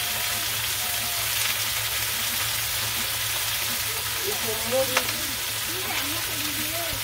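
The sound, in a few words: vegetables and fish frying in a pan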